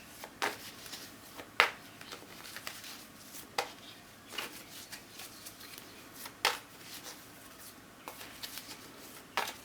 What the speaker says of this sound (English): There's a fair bit of shuffling going on here